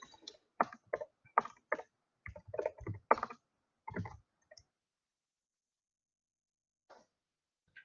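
Rapid, irregular keystrokes clatter on a computer keyboard while someone writes CSS code, close and crisp, in bursts of clicks that stop after about four seconds, then a couple of isolated taps near the end.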